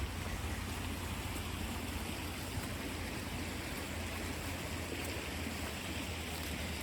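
A creek flows steadily outdoors near a state park, a faint, even rushing and babbling of water that continues unbroken with no talking.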